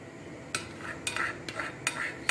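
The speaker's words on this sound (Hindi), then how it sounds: "उसमें जो है मिक्स कर लेंगे इसको सारा। चीनी मिक्स करनी है।" A spoon stirs sugar into a colostrum milk pudding mixture in a plate, giving several sharp scraping clinks at irregular intervals over a quiet background, close and fairly soft.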